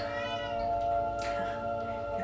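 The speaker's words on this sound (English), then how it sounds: "the way our cat's meowing at us" A pet cat at home lets out a long, wavering, caterwauling meow, steady and moderately close, over a soft indoor background hum, with no talking.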